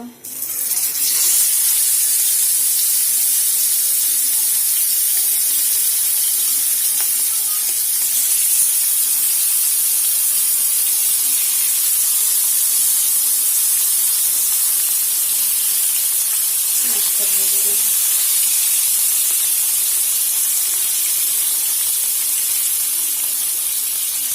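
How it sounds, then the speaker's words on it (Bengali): Hilsa fish frying in hot oil, a loud steady sizzling hiss that runs unbroken for the whole stretch, close to the pan with little else heard. "তো তেলটা গরম হয়ে গেছে এখন আমি মাছটা ভেজে নিব"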